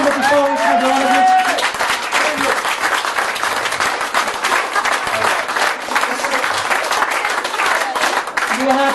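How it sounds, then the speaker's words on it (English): An audience at a comedy stage hypnosis show claps in a sustained, dense round of applause lasting the whole stretch, with voices and cheers rising at the start. "We have another round of applause, including the people who came up before us."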